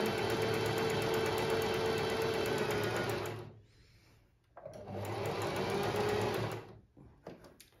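Pfaff Smart 100s sewing machine stitching a buttonhole, a loud, close motor whir running for about three seconds, pausing, then running again in a second burst before stopping.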